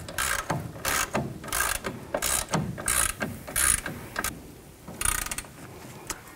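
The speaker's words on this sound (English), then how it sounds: "Now we'll tighten up the upper ball joint nut." Hand ratchet tightening the upper ball joint nut on a GMC Sierra 3500 HD, a series of quick clicking bursts in short irregular strokes, close and alone.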